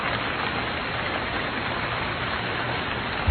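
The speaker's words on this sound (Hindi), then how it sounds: "बारिश तो बंद ही नहीं हुई बल्कि और तेज हो गई है।" Heavy rain pours down in a dense, unbroken hiss, loud and close, steady throughout with no voices.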